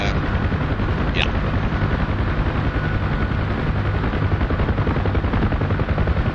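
Chain guns fired by helicopter door gunners in the DCS combat flight game, a dense continuous rattle blended with the steady thrum of rotors, loud and unbroken throughout.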